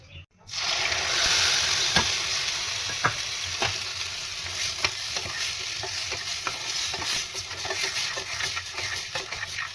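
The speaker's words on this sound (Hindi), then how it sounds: "तेल गर्म हो रहा है, तेल में जीरा डाल दिया है।" Cumin seeds sizzling in hot mustard oil, a sudden loud crackling hiss that starts at once and holds steady, with scattered sharp pops and spatters throughout.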